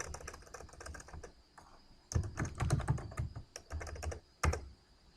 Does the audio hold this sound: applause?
no